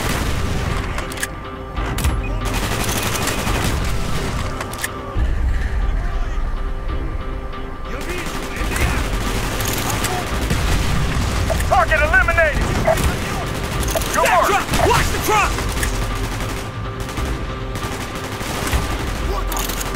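Call of Duty Black Ops campaign battle, with dense bursts of automatic gunfire, single shots and booming explosions packed closely throughout, loud and near, while voices shout in between.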